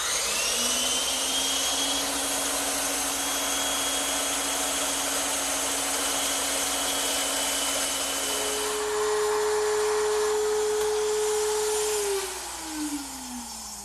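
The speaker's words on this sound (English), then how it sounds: "that does a nice job rounding off these edges. I'm just using a 1/4-inch rounding over bit in my router table" A router table spinning a quarter-inch round-over bit rounds the edges of wood stock. It gives a loud, steady motor whine that holds throughout, rising in pitch as the cut ends and the bit spins freely, with no talk over it.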